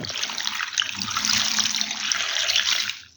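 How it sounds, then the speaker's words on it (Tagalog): Water runs steadily from a tap or is poured onto fish being washed to remove loose scales, a continuous close splashing rush lasting the whole clip with no talk. "Lagyan natin ng tubig."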